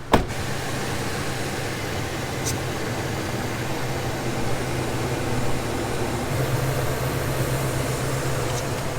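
A vehicle engine idles steadily after start-up while warming up: a constant low rumble with a hum of broadband noise, opening with a brief start-up burst, heard close and with no talking.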